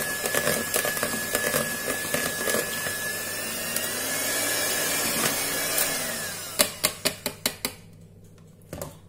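An electric hand mixer beats banana into wheat banana cake batter with a continuous whirring drone, then stops and is followed by a quick series of sharp taps.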